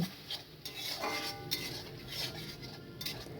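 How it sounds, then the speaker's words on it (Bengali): Onions and green chilies being stirred and sautéed in a pan, with soft scraping strokes and a faint background sizzle at low volume, no talking. "আর দিয়ে দেবো কয়েকটা কাঁচা লঙ্কা আর এই যে আমি পেঁয়াজটা বললাম আজকে পেঁয়াজ দিয়ে বানাবো তাই পেঁয়াজটা দিয়ে দিলাম দেওয়ার পর আবার ভালো করে কষিয়ে নেব"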